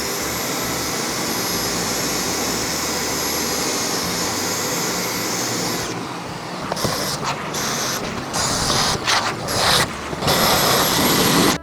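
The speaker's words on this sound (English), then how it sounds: "I'm gonna be running my shop vac" A shop vac runs with a loud, steady, high-pitched roar, then broken surges and dips partway through as the suction is interrupted and restored, with no talk.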